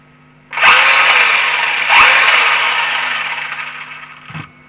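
An MJX Hyper GO RC car's motor runs at full throttle indoors, a loud, close, high buzzing whir that surges twice and then fades before cutting off, with no voices.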